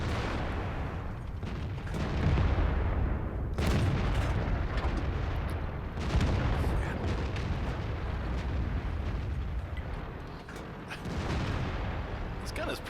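Tank guns fire in the online battle game World of Tanks, several heavy booms over a dense constant roar of engines and battle noise, with a voice talking at times.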